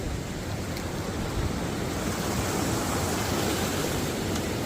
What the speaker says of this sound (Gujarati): જો મસ્ત મજાનું પાણી જાય છે